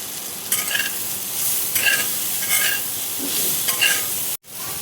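Tomatoes frying with salt and turmeric in a pan, a loud constant sizzle with regular scraping stirs roughly every second and a brief gap near the end; no voices.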